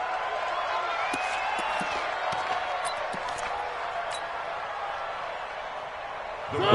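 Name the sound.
football stadium crowd cheering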